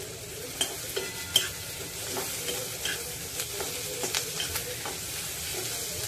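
Onion with turmeric and asafoetida sautéing in a pan for a leafy greens dish gives a steady, soft sizzle and frying crackle, with a few sharp stirring clicks in the first seconds and no voices.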